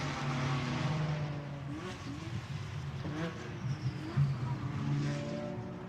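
GT4 race cars, an Audi R8 and a Mercedes running side by side at Misano, roar past with engine notes rising and falling as they come off a corner, heard continuously from trackside.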